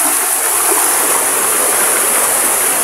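Tarimis Falls, a waterfall in Montalban, Rizal, sends out a steady, loud rushing roar of falling water that stays unbroken and close for the whole stretch.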